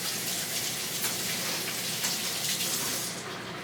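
Steady, close water runs from a kitchen tap for several seconds as hands are washed beneath the stream, a continuous hissing splash with no talking.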